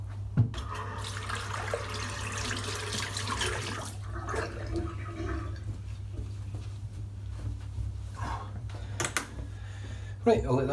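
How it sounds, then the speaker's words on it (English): Shaving brush rinsed under a running tap, a steady stream of water hissing into a sink with a few sharper splashes and knocks, heard fairly close over a low continuous hum. "I'll wash the brush out."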